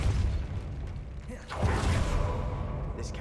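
A Depulso spell cast in Hogwarts Legacy inside a decaying catacomb, a dense rumbling, creaking whoosh that swells with a burst midway and carries on under steady mechanical noise.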